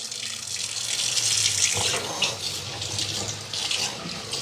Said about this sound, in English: I'm gonna rinse them off real quick.